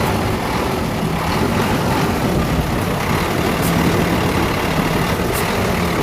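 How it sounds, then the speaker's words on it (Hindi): A truck engine runs loudly and steadily close by while heavy machinery is loaded onto it, a constant rumbling drone with no speech. "ये जिस तरह ट्रक पर ये मशीनरी लोड कर रहे हैं"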